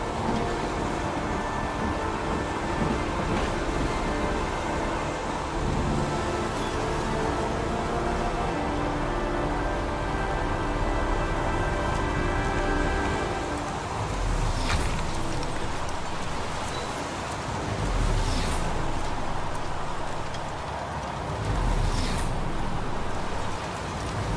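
Steady rain from the video game Heavy Rain, a dense continuous wash with a low rumble of thunder underneath and a few brief brighter bursts, loud and unbroken throughout.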